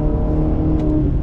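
A Maserati Quattroporte driven hard, its engine droning with a steady rich hum held at high load, loud and close, with no voices.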